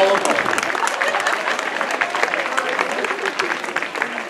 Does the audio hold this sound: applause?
yes